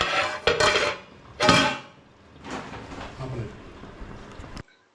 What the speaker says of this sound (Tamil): கிரேவியை கொஞ்சம் நேரம் மூடி வச்சுருவோம்